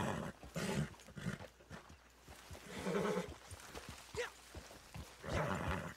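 Horse in Red Dead Redemption 2 Online, snorting and whinnying in short bursts with hoof clatter and rustling movement, moderately close with no talk.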